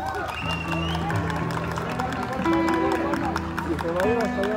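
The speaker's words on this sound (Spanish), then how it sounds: "Público, regálenle un aplauso." Spectators at a rodeo tournament in a plaza in Kilgore give a steady round of applause and cheering, with a Spanish-speaking announcer's amplified voice and crowd babble running over the clapping throughout.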